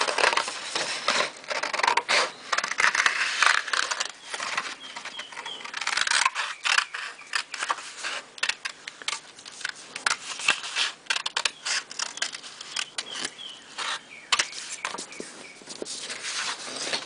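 Scissors snipping through paper while cutting out a paper boat shape, a steady run of close, crisp cuts and rustles with no talking.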